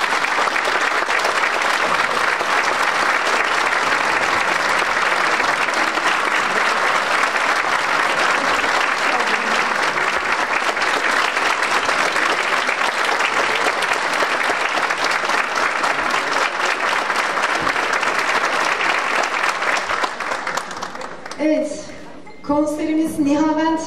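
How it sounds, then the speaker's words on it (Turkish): A concert audience at a municipal Turkish classical music ensemble's New Year concert applauds loudly and steadily for about twenty seconds before the clapping thins out and a voice begins speaking. "büyük alkışlarla huzurlarınızı davet ediyorum"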